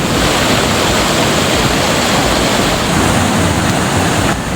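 Fast-flowing rapids of the Batang Anai river in the Megamendung area, with logs lying across the current, make a steady, loud, close roar of rushing water that runs unbroken throughout, with no voices.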